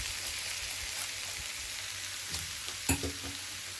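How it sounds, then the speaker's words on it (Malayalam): Cooked rice goes into a hot frying pan for egg fried rice, giving a soft continuous sizzle with a few scrapes and stirring knocks, one sharper clink near the end, and no talking. "ഇനി നമുക്ക് റൈസ് ആഡ് ചെയ്യാം"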